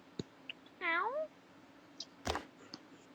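A cartoon cat meows once in the video game Toca Life World, a short rising-falling call among soft clicks and taps from game play, quiet and close.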